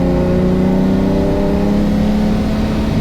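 A Ferrari 330 GTC engine hums steadily while driving, a loud, continuous mid-pitched drone with a slight rise in revs and no talk over it.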